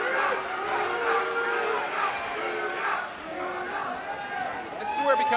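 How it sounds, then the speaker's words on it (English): A crowd at a Summit Fighting Championships mixed martial arts event breaks into a sustained chant, steady and loud throughout, with a commentator talking over it. "The crowd now erupting in the chant of Tuna."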